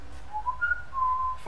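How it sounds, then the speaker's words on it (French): Someone whistles a short, soft rising-and-falling tune of a few notes, fairly quiet and alone against a low background hum. "la caméra, il t'entendrait siffler, tu sais."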